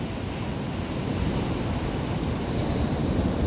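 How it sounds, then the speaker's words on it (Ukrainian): Rough sea surf after a night storm on the Odesa coast roars steadily, a broad continuous wash of breaking waves with wind noise buffeting the microphone. "І хвилі вони беруться, не знаю, от звідки вони беруться"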